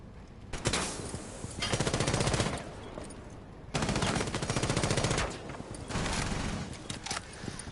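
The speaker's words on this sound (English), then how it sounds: "Bang actually getting the first kill of this game onto Blaine" Rapid automatic gunfire in a Rainbow Six Siege esports match, loud sustained bursts separated by short pauses, with no talking over it.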